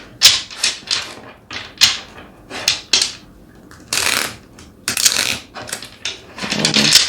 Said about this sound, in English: I did pre-shuffle these, but I just feel this need to give it one more.